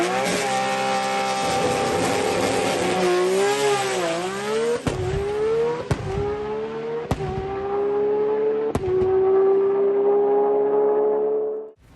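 A manual Nissan GT-R street car makes a drag strip pass at the 2021 Platinum Racing Products GTR Challenge. Its engine screams loudly and close, climbing in pitch through several gears with sharp breaks at each shift. There is no talk.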